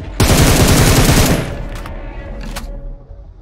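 Rapid burst of automatic gunfire in PUBG Mobile, loud and close for over a second, followed by a couple of sharper single shots and fading echoes.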